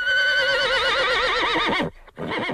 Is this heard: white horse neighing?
yes